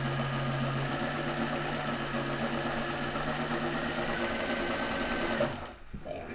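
A sewing machine winds a bobbin with a steady, loud motor whir that holds even for several seconds, then stops abruptly and leaves a quieter tail.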